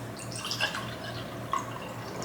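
A ginger drink poured and spilling, making soft close drips and splashes of liquid, a couple of small splatters standing out against quiet room background.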